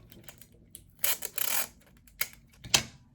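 Scotch tape rips off its roll in a few short crackling pulls separated by quiet pauses, close and fairly loud with no voices.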